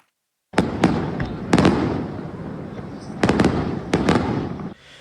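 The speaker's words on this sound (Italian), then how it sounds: "I fuochi d'artificio hanno calato il sipario sulla festa di Sferracavallo a Palermo" Fireworks bursting at the Sferracavallo festival in Palermo, with loud sharp bangs in irregular clusters over a continuous crackling rumble, close and dense, ending abruptly.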